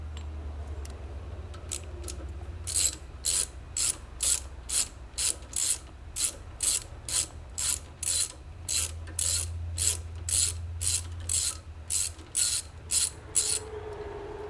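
A ratchet wrench removes bolts from an HP pump, clicking in a steady series of sharp strokes, close and loud, with a few slower clicks at the start and no talk.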